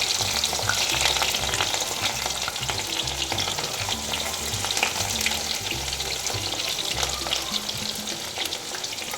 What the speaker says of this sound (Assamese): এতিয়া মই এইখিনি ফ্ৰাই কৰি ল'ম কঁঠালৰ মুচিখিনি।